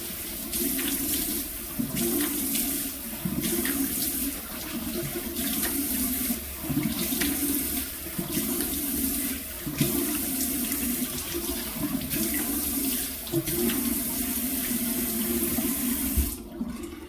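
Water runs steadily from a bathroom tap into a sink while someone washes their face, a continuous close rushing flow with small splashing changes and no talking.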